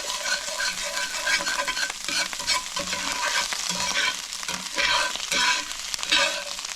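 A deer heart pie filling with salsa sizzles and bubbles as it cooks down in a pan, with stirring scrapes over a steady close fry and no talking.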